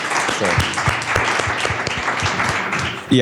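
An audience at a panel discussion bursts into sustained applause, dense clapping filling the room at steady volume throughout, with a voice briefly audible underneath.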